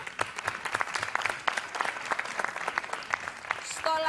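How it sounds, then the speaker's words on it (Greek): An audience claps warmly for violinists at a live Theophany television show with folk musicians, a steady, dense round of applause near the microphone that thins at the very end. "και η Λουκία Λαζάρου, το πιο θερμό σας χειροκρότημα."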